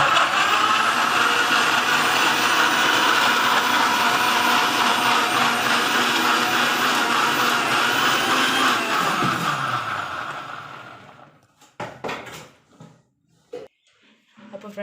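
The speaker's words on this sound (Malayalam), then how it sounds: "മിക്സിയിൽ നമുക്ക് അടിച്ചെടുക്കാം." A mixer grinder blends mango juice with cold water, giving a loud, steady, close whirring roar for about ten seconds before it winds down and stops, followed by a few brief clatters.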